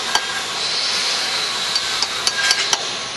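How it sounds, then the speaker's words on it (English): Hammer striking a chisel to score the side of a brick masonry joint, a handful of sharp metallic taps spaced irregularly over steady background hiss, with no talk. "And then we go to the other side of the brick and we score that"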